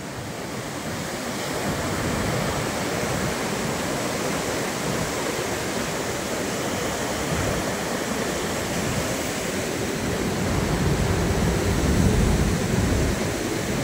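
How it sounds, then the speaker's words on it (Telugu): Floodwaters of the Musi river surge past the Chadarghat bridge in Hyderabad, a steady loud roar of crashing waves and rushing water filling the whole stretch with no voices. "చూడండి ఏ విధంగా అలలు ఎగురుతున్నాయో."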